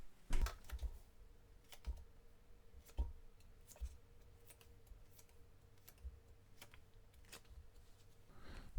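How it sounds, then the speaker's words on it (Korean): Tarot cards being drawn and handled during a reading, a quiet series of soft light clicks and card flicks scattered over a faint hushed background, no speech. "제가 카드 뽑아볼게요"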